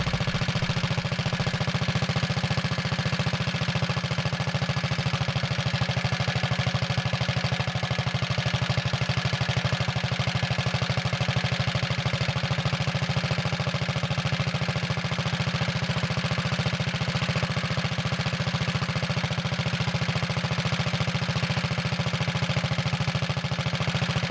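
A Wheel Horse Model 401 garden tractor engine idles steadily up close while its idle screw is adjusted, giving a continuous low rumble with a fast even putter and no voices.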